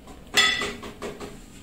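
Plates handled in a kitchen after preparing orecchiette with broccoli, a short bright clink of ceramic followed by a couple of softer knocks, close and fairly quiet.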